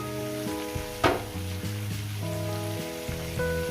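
Sliced pumpkin and bitter gourd with salt and turmeric frying in a pan, a steady close sizzle with a sharp crackle burst partway through, under a faint tonal hum.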